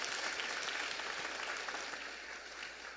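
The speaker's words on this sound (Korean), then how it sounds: "다시 한번 우리 부활의 주님을 박수로 찬양합니다." A church congregation at a Sunday morning Easter service claps in praise, a soft, distant wash of applause that fades slightly toward the end.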